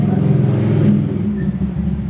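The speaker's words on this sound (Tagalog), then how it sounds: "pasensya na, maraming sasakyan dito sa amin" Cars pass on a street outside, a steady low engine rumble and whir holding at moderate loudness throughout with no voices over it.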